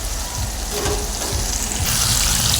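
Chicken pieces frying with spice masala for biryani give a loud, dense, close sizzle that crackles steadily throughout, growing a little brighter near the end, with no voices.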